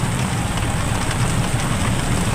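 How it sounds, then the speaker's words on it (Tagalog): Heavy rain pours down in a steady, dense roar of broadband hiss with a low rumble beneath, continuous and loud with no voices present. "Grabe yung lakas ng ulan."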